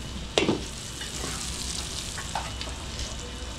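Butter sizzling and frying in a pan at the start of a mixed seafood dish, a steady soft crackle with a brief louder clatter near the start and light stirring.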